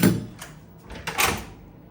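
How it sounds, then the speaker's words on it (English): An automatic hotel room door, opened by a wall button, slides and thuds in two short bursts, close by and fairly loud. "So remember how we showed you the button on the wall where it automatically opens the door for you?"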